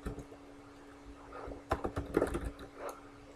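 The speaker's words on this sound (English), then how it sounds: "Next, I'm going to use the text tool and I'm going to type out my name." Keys tapped on a computer keyboard while a name is typed into an image editor's text tool, a quiet uneven run of clicks that grows busier toward the middle, close and faint with no talking.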